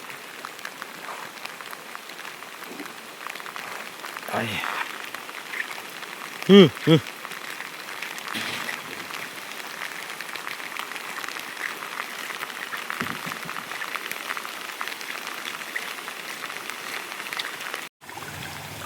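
Heavy rain pours down at an outdoor work site, a steady wash of falling water throughout. A few brief voices and knocks stand out, and a short exclamation is heard.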